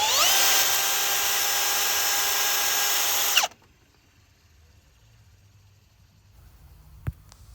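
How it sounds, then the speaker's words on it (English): A Milwaukee power drill spins the alternator pulley on a Toyota Corolla engine with a loud, steady high whine for about three seconds, then cuts off abruptly, leaving near silence and a single faint click. "I'm using a Milwaukee drill machine to rotate this alternator pulley."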